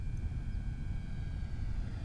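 A Beechcraft D18 radio-controlled model plane with a 1.5 m wingspan drones steadily in flight, a low continuous engine hum with a faint high whine above it, unbroken and fairly distant.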